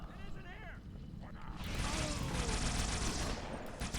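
Dual needlers in Halo 2 fire in a thick, sustained volley that swells after a brief quieter lead-in, with a voice heard faintly early on.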